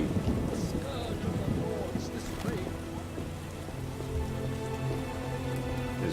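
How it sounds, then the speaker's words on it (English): Steady rain falls in The Witcher video game, a dense patter of drops with low rumbling underneath that holds at an even level throughout. "The scourge of the lords, this rain."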